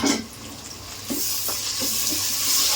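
Ginger garlic paste going into frying country chicken in a pan. It gives a steady sizzle and hiss with a few soft stirring scrapes, close and moderately loud, with no talking.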